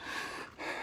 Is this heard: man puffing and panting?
yes